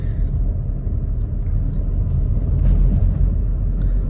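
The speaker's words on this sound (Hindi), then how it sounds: "ये मैं थर्ड गियर ट्राई करूंगा, बाकी सारे गियर 1500 आरपीएम के आसपास डल जाते हैं।" Car engine running steadily while being shifted into third gear without using the clutch, a dull continuous low rumble with no voices.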